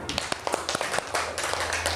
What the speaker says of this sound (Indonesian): tepuk tangan untuk Tasya yuk